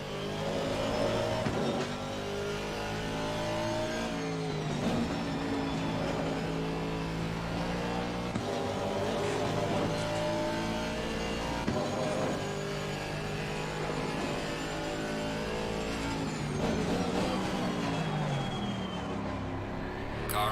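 Aston Martin AMR V8 race car engine at Kyalami in Assetto Corsa Competizione, a loud, steady close-up drone whose pitch rises and falls with revving and gear changes for the whole stretch.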